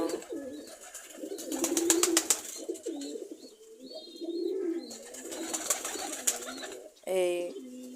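Pigeons coo softly in repeated low throaty phrases while eating grain, close by, with brief rustling and scratchy pecking sounds between calls.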